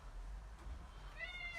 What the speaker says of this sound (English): Oh, we've got a cat in the room.